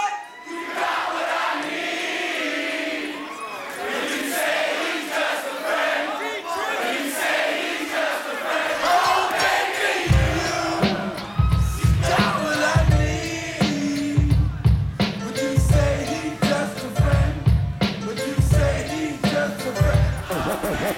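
A live Los Angeles concert crowd cheers and yells at a 2003 DJ set, a loud sustained roar that continues as heavy bass-driven music kicks in with pounding beats midway through.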